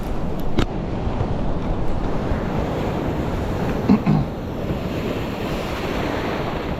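Ocean surf breaks steadily on a beach, a dense continuous wash of rolling waves mixed with wind rumble on the microphone, a couple of brief clicks near the start.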